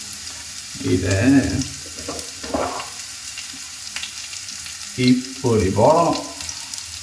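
Onions frying with salt in a pan give a steady, close sizzle that runs beneath two short bursts of casual talk.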